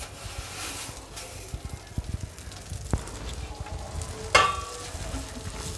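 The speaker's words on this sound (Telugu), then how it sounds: "దీన్ని కూడా చక్కగా ఫ్రై చేసుకోవాలి" Vermicelli (semiya) frying in a pan for semiya kesari, a steady close sizzle with scattered stirring clinks and scrapes, and one sharper crackle near the end.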